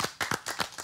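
Several sharp claps from a small group honour a chef at a restaurant table, coming in uneven close bursts over less than a second with no talk.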